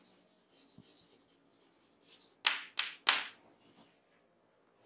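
Chalk or marker strokes on a board, a few quick scratchy bursts clustered together, quiet and close in an otherwise still room.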